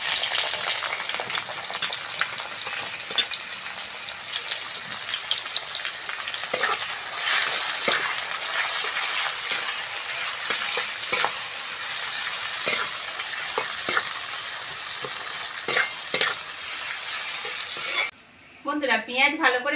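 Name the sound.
onions frying in a pan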